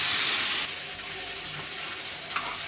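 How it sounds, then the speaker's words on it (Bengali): Water poured into a pot of chicken curry, a steady bright rushing hiss that eases after a moment into a softer simmering sizzle, with no voices. "জলটা দিয়ে দিলাম।"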